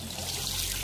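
Cold water trickling and pouring in a continuous, close, fairly loud stream with a bright splashing hiss, lasting under a second.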